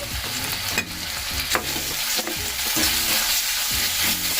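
Spoon stirring chili powder, coriander powder and salt through a hot pan for a Bengali-style rui fish curry made without onion, a steady scraping, sizzling churn with rhythmic strokes throughout, close and fairly loud.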